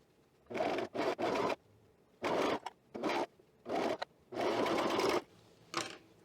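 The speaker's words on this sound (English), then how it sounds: "I'm just trying to make sure that it doesn't get stretched out as I sew it, since it is a really stretchy fabric" Sewing machine stitching a seam of very stretchy knit fabric for a top, in several separate bursts of about half a second to a second, with short pauses between runs.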